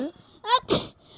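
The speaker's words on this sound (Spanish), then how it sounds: "solo estornudé muchas veces" A single sneeze during a children's pretend animal-hospital game: a short breathy intake followed by a sharp, loud burst, close by, with brief voice sounds around it.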